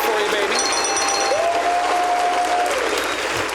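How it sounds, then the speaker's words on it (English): Podcast applause, a dense burst of clapping, with a sustained tonal jingle gliding over it; a voice talks briefly alongside. "Round of applause and jingle"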